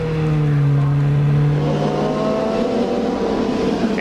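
Indy race cars from the 1993 CART round at Road America circulate on the four-mile road course, a loud, steady engine drone that holds strong, then settles into a rougher, busier roar with no talk.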